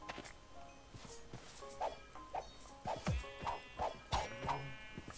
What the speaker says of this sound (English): I've just heard a moo